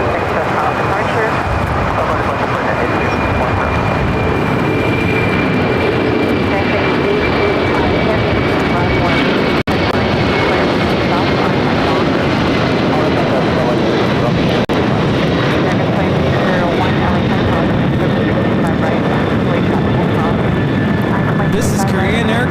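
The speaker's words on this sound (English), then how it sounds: "This is Korean Air Cargo 8210 taking off to Seattle on the 747-400 freighter." A Korean Air Cargo Boeing 747-400 freighter takes off from LAX for Seattle, a loud sustained jet roar with a high engine whine, and voices talking over it.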